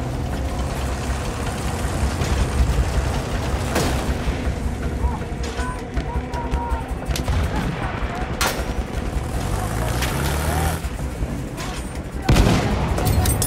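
An enemy machine gun firing in a Battlefield 1 battle, rattling bursts and heavy booms layered over a constant war din, with a voice talking amid the shooting.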